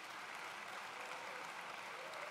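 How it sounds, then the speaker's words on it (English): Audience applause at a 2018 high school awards show, honoring the production team: a dense, even wash of clapping from a crowd, steady and fairly distant throughout. "Let's have one more round of applause for our production team."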